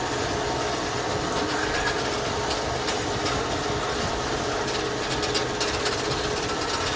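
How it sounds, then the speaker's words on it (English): A John Deere 447 belt baler running in a hay field produces a continuous, even mechanical rumble and whir with light rattling, with a tractor at about 2000 RPM close by and no talk. "It's a very quiet baler."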